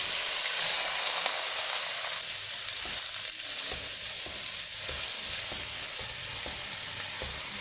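Finely chopped onions frying in about a cup of cooking oil over a medium flame for fish curry, giving a steady, loud, close sizzle and hiss with faint stirring ticks throughout.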